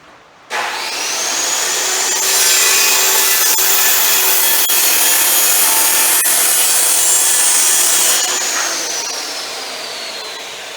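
A saw cuts wood at a workshop saw station while framing a divider: one loud, steady, close run of about eight seconds that winds down at the end, with no talking.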